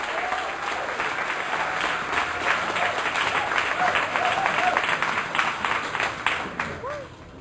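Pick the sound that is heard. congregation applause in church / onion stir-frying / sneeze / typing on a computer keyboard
congregation applause in church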